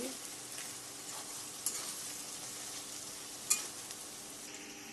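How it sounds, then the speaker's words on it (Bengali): Onions sizzle in a kadai while preparing mutton curry, a soft, even frying hiss with occasional light clinks of a spoon stirring. "পেঁয়াজ কড়াইতে বসে দিয়েছি"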